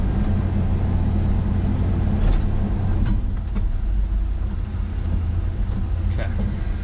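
An old Ford Ranger pickup truck driving, a low steady engine and road rumble heard from inside the cab, with someone talking over it.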